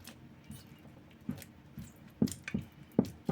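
Fingers pressing into soft, wet sourdough focaccia dough to form bubbles and craters, giving a few soft squishy presses that grow louder near the end, with no voices.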